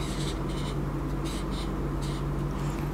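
A pen or pencil scratches out a handwritten number in several short bursts over a steady low hum, with no talking.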